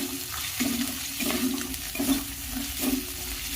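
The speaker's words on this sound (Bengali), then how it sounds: "এবার দিয়ে দিচ্ছি 1 চামচ কাঁচা লঙ্কা কুচি, আর দিয়ে দিচ্ছি 1 চামচ গ্রেট করা আদা কুচি।" Grated ginger and chopped green chilli go into hot oil with five-spice seeds in a frying pan for vegetable chop, producing a steady, loud sizzle that swells in repeated pulses roughly every second, close and without voices.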